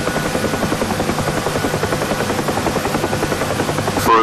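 Steady, loud rotor chop of a UH-1 Huey helicopter in flight within the DCS combat flight simulator, rhythmic blade thumping over a continuous turbine whine, close and unbroken with no talk.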